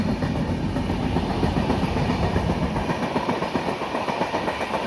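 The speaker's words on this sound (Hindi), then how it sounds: "ट्रेन हमारी रफ्तार पकड़ते अराउंड 70 की स्पीड पर पहुँच चुकी है।" A passenger train from Secunderabad to Danapur picks up speed to around 70, a constant loud rumble from inside the coach with a fast, steady clickety-clack of wheels over rail joints.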